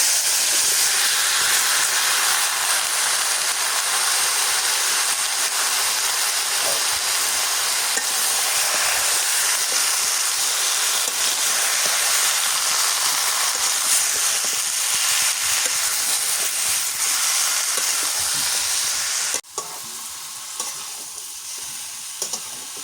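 Bottle gourd hitting a hot pan for a snakehead fish curry, a loud, dense, continuous sizzle and hiss that runs unbroken, then drops in level near the end, with no voices.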